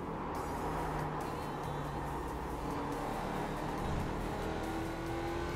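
A race car in the iRacing sim game, its engine droning steadily and loudly throughout with shifting pitch as it rolls through corners, with no pauses or other sounds.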